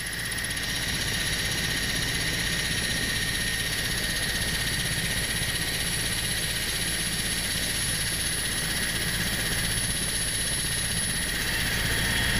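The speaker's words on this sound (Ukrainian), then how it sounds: "Гелікоптери вивантажили, і нас завантажили в гелікоптер, і ми пішли на взліт." A military helicopter's engine and rotors roar close and loud in one steady, unbroken drone that lasts throughout, with a high whine on top.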